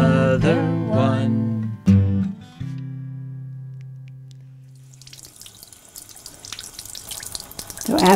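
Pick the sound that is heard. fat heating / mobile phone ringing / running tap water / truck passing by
running tap water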